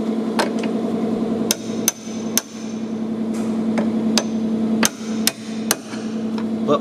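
Milwaukee impact wrench hammering at a stubborn fastener on a Subaru WRX suspension, a steady rattling drone broken by a series of sharp, loud hammer-like bursts, close and with no talking.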